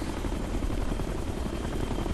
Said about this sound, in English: it's really important to listen for the helicopter to see where it is